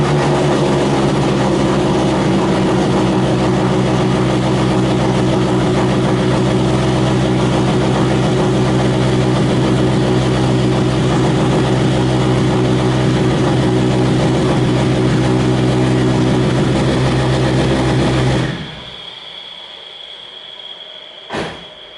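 An engine runs steadily with a loud, low, rumbling drone for about eighteen seconds, then cuts out, leaving quieter background noise from a pool pump and a brief faint sound.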